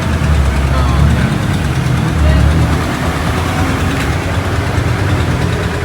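An Isuzu Mu-X diesel engine idles steadily at a service shop during preventive maintenance, a loud, constant rumble close by.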